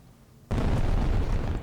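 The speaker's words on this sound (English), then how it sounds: "A magical fireworks reenactment of the battle." Fireworks go off in a magical battle reenactment in an episode of the Frieren anime, one sudden loud boom after a quiet start that rolls into a sustained crackling rumble.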